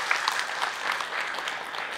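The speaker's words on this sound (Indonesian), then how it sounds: "Boleh tepuk tangan dulu dong buat Ahilman ya, buat kita semua." An audience at an Islamic religious lecture breaks into applause, a dense, even patter of clapping that stays steady for the whole two seconds.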